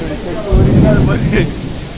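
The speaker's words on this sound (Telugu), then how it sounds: "వర్షం తుఫాన్ లాగా పడుతుందండి" Heavy rain pours during a storm, a steady broadband roar of downpour and gusting wind that swells louder midway and then eases slightly, continuous throughout.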